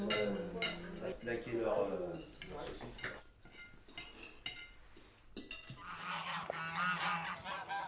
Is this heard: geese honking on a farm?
yes